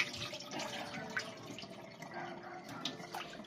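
Soaking water draining off washed rice, faint close trickling and dripping with small irregular splashes and soft gurgles, quiet and continuous with no talking.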